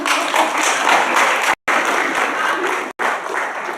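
A room full of people at an awards ceremony applauding, dense steady clapping close by, briefly cut off twice before resuming.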